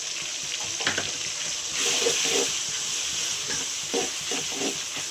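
Tomato pieces stewing in a pan for a Telugu fish curry give a steady bubbling sizzle with soft stirring scrapes and occasional louder swells, close and continuous with no talking.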